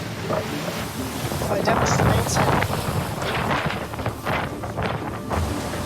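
Strong 40-knot wind roars over a sailboat at sea, a loud continuous rush with gusting surges and broadband buffeting from water and rigging throughout.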